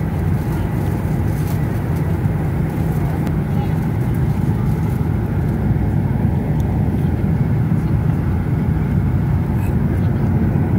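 A constant low roar of jet engines fills an Emirates airplane cabin in flight over central Europe, steady and unbroken, with faint muffled voices underneath.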